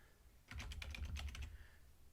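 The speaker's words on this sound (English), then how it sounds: "and just start typing." Rapid typing on a computer keyboard, a dense burst of quick key clicks lasting about a second, close and fairly quiet, with no one talking.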